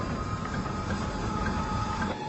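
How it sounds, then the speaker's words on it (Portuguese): A cable-pulled funicular train hauling Matarazzo cargo toward São Paulo rumbles along steadily, a continuous mid-distance rolling drone with faint rattling and no voices. "A carga de Matarazzo está sendo trazida a São Paulo pelo funicular, um trem puxado por cabos."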